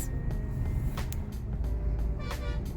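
Steady road traffic rumble in a jam near flyover construction works on a drive toward Kolhapur, a constant low engine drone with brief higher hisses and swishes of passing vehicles, no talk.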